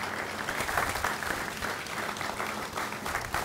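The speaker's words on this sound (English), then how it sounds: "Let's give them a round of applause" A crowd gives a steady round of applause for Arnie Katz and Zach Butner of Relay Foods at a Richmond expansion announcement, dense even clapping throughout, moderately distant.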